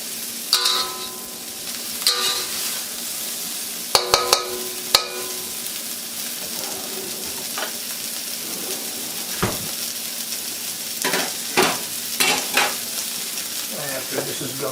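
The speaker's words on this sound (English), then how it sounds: "you want it hot enough that it is continually frying down there in the center." Food sizzles steadily in a hot wok while utensils stir and clang against the metal in irregular bursts throughout, close and continuous.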